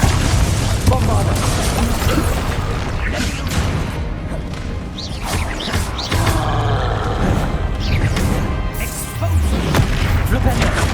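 A Bombarda spell in the Hogwarts Legacy video game lets off heavy booming blasts and crashing impacts in a noisy battle, loud and sustained, with characters speaking throughout.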